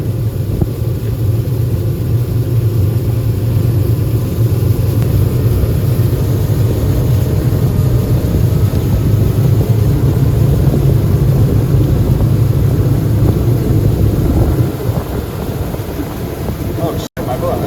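A Shoalwater 21 Cat boat's outboard motor drones steadily and loudly under heavy wind buffeting, easing off slightly near the end, with voices talking over it.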